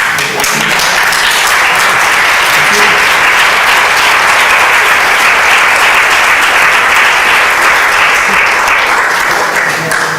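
A lecture audience at a master class on feminism breaks into sustained, loud, even applause, dense clapping from many hands filling the hall without pause.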